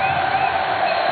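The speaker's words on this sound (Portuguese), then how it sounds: "A torcida do Fluminense aplaude." A large football crowd at a Fluminense vs Internacional Brasileirão match roars continuously, a loud sustained wash of cheering voices with no distinct claps standing out.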